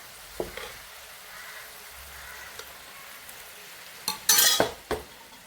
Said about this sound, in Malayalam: ഇവിടെ വെന്ത ചെറുപയർ ഇടുകയാണ്